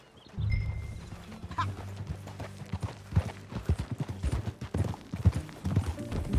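Horse hooves clip-clop steadily on a ride in the game Red Dead Redemption II, a continuous rhythmic trot close up over low rumbling movement and ambience.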